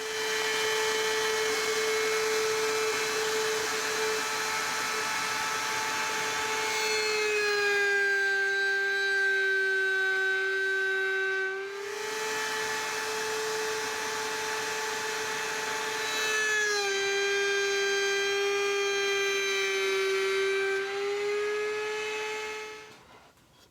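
A router table with a dovetail bit whines at a high steady pitch as it cuts reclaimed oak. The tone dips in pitch twice under load, then winds down at the end.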